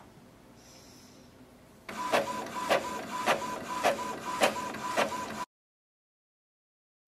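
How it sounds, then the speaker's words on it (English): An Epson EcoTank ET-2720 inkjet printer printing a photo: after a faint hum, a loud mechanical whir sets in with a regular series of rhythmic carriage strokes for a few seconds, then stops abruptly. "In this video, I'm going to print the photos with your Epson ET-2720 printer."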